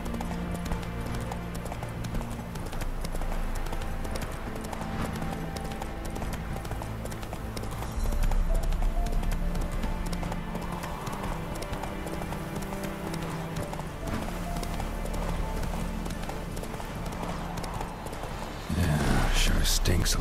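Roach the horse gallops in The Witcher 3, a steady clip-clop of hooves running under a dense music and game-sound bed, with a louder burst near the end.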